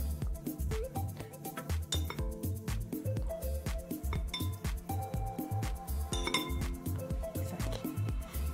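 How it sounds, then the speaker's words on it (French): A spoon stirs salt and water into a thick paste in a bowl for homemade puffy paint, steady rhythmic clinks and scrapes against the bowl, close and fairly quiet. "Et on mélange."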